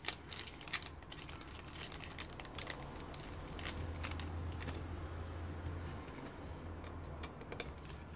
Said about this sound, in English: And just loosen off all those Allen keys.